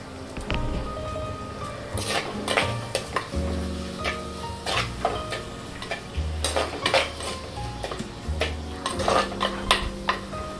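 Ingredients for horse gram rice sauté in a pan, a soft frying hiss under repeated scraping and clanking of a spatula against the metal, rhythmic stirring strokes with no voices.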